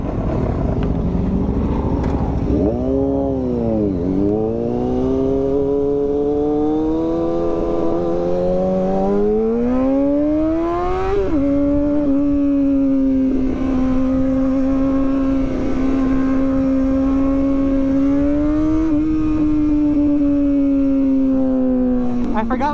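Motorcycles ridden on a weekend group outing, a supermoto among them, with a close, loud engine droning steadily and rising and falling in pitch through gear changes, plus wind roar and riders talking over it.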